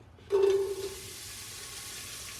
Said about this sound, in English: And they make that satisfying sizzle.